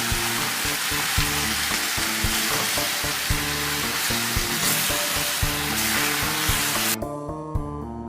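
Beef searing in a hot pan before stock goes in for a Spanish beef estofado, a loud, dense sizzle that stays constant at close range and then drops away sharply near the end, with no voices.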